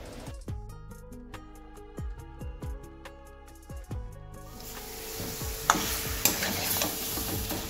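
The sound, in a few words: mixing and frying dok fish curry ingredients in a pan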